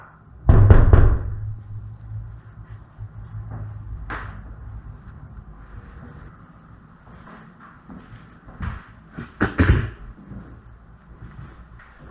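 Knocks during a paranormal investigation in an old theatre in Bisbee, Arizona: a few sharp, scattered raps, one strong and others fainter, in a quiet room with a low background hum.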